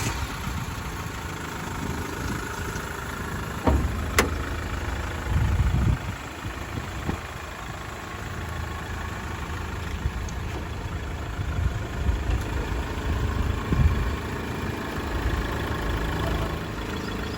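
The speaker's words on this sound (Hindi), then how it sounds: "मैं तब आपको गाड़ी स्टार्ट करके सुनाता हूँ कि गाड़ी का साउंड अभी कैसा आ रहा है।" A Mahindra XUV500 diesel SUV engine idles steadily nearby, a low continuous rumble with a few brief knocks and bumps along the way.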